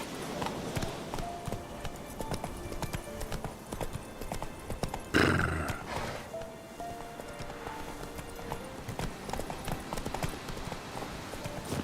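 Hooves of Geralt's horse Roach clip-clop at a steady gallop in The Witcher 3, with a sharp whinny partway through, set against continuous in-game ambience.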